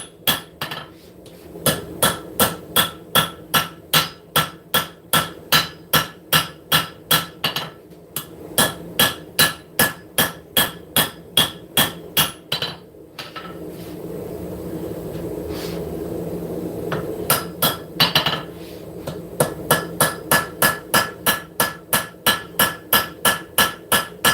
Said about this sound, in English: Dog head hammer. Let me hammer right on top of the blade.